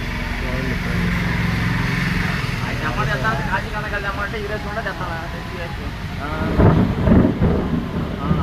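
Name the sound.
heavy rain with thunder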